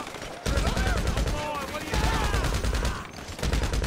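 Rapid gunfire in the GTA video game, dense bursts of shots filling most of the moment with brief pauses, loud and close, with a voice talking over the shooting.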